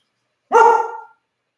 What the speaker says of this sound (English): So good, he only barked twice.